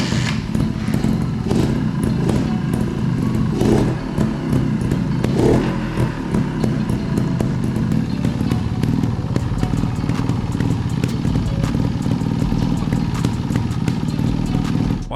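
A kick-started motorcycle engine idles steadily and loudly for the whole stretch, with a dense low rumble, faint clatter and occasional thumps, and no talk over it.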